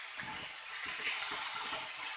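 Water poured into puff pastry stuffing in a pan, a steady close hiss of running liquid with no voices.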